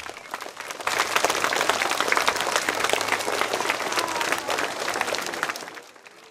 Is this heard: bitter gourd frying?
no